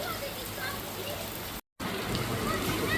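Rain falling at Lamai Beach: a dense, steady hiss of drops on surfaces, briefly cut to silence for a moment partway through, then resuming just as loud.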